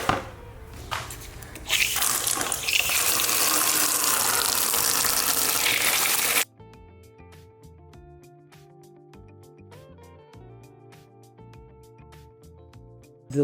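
Running water splashes loudly as peppers are rinsed in a bowl, a steady gush for several seconds that abruptly gives way to quieter dripping, clinking and light handling sounds.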